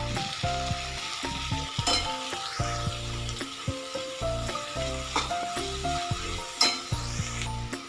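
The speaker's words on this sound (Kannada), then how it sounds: "ಟೊಮೊಟೊ ಎಲ್ಲ ಸಾಫ್ಟ್ ಆಗೋವರೆಗೂ 1 ನಿಮಿಷ ಫ್ರೈ ಮಾಡ್ಕೊಳ್ಳೋಣ" Chopped capsicum and tomato frying in a pan for avalakki bath, a steady sizzle broken by repeated stirring strokes and occasional clinks of a spoon against the pan, close and fairly loud.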